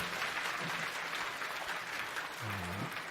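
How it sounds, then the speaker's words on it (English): An audience claps continuously in dense, even applause filling the room, with a brief voice rising near the end. "Is that real claps for celebration"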